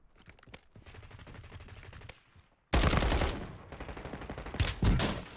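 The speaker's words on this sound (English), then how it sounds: "Oh, I'm getting sniped." Sniper and automatic gunfire crack through a Call of Duty Warzone match in Verdansk, sparse shots at first, then a sudden loud barrage of rapid bursts dominating the second half.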